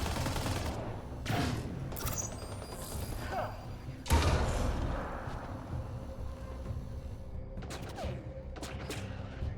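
Weapon fire in the Mass Effect Andromeda multiplayer match on the Bronze Icebreaker map, with bursts of shots and thuds over constant rumbling battle noise and a sharp louder hit near the middle, with talk underneath.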